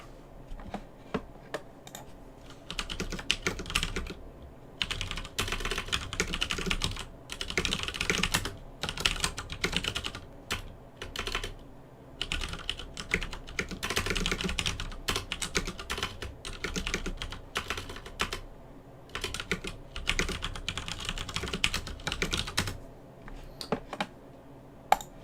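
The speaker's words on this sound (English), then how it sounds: "Typing while streaming, how dare I?" Rapid typing on a computer keyboard during a live stream, with dense, irregular bursts of key clicks and short pauses, close and clear with no talking.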